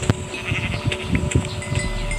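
Several sheep bleat in Minecraft, with short overlapping calls coming in an irregular rhythm, close and clear, with no talking over them.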